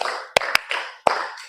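A classroom of students claps out a counted rhythm pattern, a few crisp, close claps separated by short gaps, with voices chanting between them.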